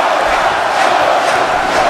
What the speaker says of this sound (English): can hear the crowd trying to will Kota Ibushi back into this